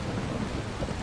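Heavy rain and rolling thunder in the video game Dying Light, a dense, loud, continuous roar of downpour with deep low rumbling throughout, no voices.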